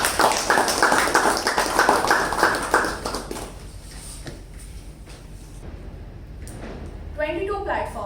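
An audience at a Toastmasters meeting gives a round of applause welcoming a speaker, dense clapping for about three seconds that then stops, followed by quieter room noise and a person speaking.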